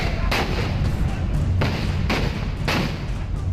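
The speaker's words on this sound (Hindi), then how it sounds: "फिर पहले गोली चलने की आवाज आती है।" Gunshots ring out during an election-day clash between rival supporters in Sitapur, with police present: four heavy, booming reports in quick, irregular succession over loud, noisy background commotion.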